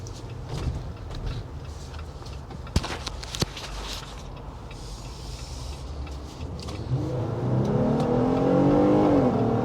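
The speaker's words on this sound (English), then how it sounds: "You can hear that Pentastar really works hard for its money." The Pentastar V6 in a 2022 Jeep Gladiator Rubicon strains under acceleration in town, a steady engine drone heard from inside the cabin that rises and builds in pitch toward the end, with a couple of sharp clicks early on.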